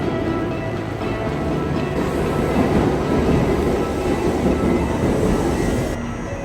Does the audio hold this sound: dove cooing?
no